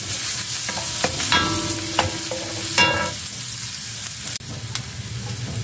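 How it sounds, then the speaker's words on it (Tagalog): Sliced beef innards sautéing with ginger in a hot pan, a steady sizzle with scraping stirs and a few clinks of the utensil, fairly close. "So, ayan, slice ko na rin siya ng maliliit at igigisa na natin siya."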